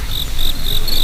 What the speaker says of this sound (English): Where the crickets at?